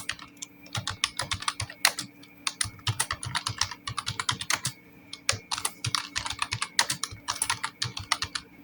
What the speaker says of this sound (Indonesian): ketikkan